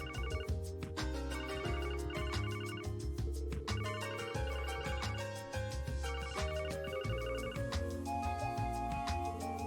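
Mobile phone ringing in the video game Zero no Kiseki, a melodic electronic ringtone chiming over steady layered game music, loud and continuous throughout.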